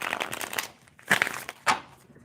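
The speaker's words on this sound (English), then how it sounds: "let me shuffle these cards really well" A deck of tarot cards is shuffled near the microphone in three short bursts of riffling and crisp flicking, with quiet pauses between them.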